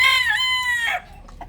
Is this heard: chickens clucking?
yes